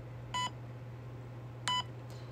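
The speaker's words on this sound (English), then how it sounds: "It stops beeping when I'm moving." A dying battery pack gives two short, sharp electronic beeps over a steady low hum, spaced more than a second apart and fairly loud.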